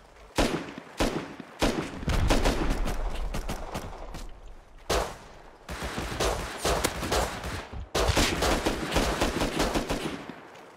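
Bursts of rapid gunfire in a Rust PvP fight crackle loud and close in repeated volleys with short pauses between them, and the shots keep coming through the whole stretch without any talk.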